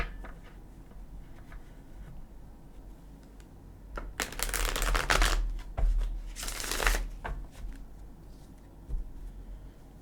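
Gilded Tarot cards riffle-shuffled twice in quick, crisp bursts, with soft clicks and handling noises before and after in a quiet room.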